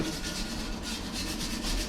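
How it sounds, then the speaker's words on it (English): A wire brush scrubs ash off a fresh weld on a Jacobsen machine, producing a steady, continuous close-up scratching rasp with a faint rhythmic back-and-forth texture. "Brush away all that ash."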